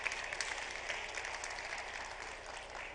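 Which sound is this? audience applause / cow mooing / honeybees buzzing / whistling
audience applause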